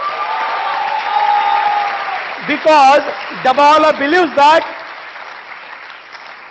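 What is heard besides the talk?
audience applause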